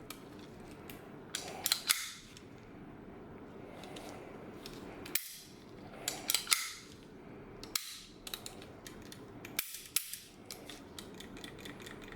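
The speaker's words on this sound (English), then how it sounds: "Cycle it a couple times. Go ahead and drop the hammer." Sharp metallic clicks and clacks as a Baikal IMEZ Makarov pistol's slide is cycled and its hammer dropped, a few separate snaps spaced out over quiet background.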